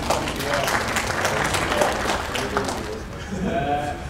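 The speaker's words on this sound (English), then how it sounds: "So, round of applause for the guy that was so nice." Audience applause in a stage fighting workshop at an anime convention; a dense, loud roll of clapping that fills the room, easing near the end as a voice and other sounds come through.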